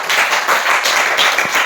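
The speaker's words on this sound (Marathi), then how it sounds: "टाळ्या वाजवा रे" Students in a classroom clap for a science demonstration, a short burst of loud, rapid, overlapping handclaps close by and without talk.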